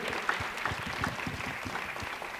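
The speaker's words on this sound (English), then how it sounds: "Let's give her a round of applause" A crowd at a school Black History oratorical competition claps in a dense, steady patter that stays fairly quiet and even throughout.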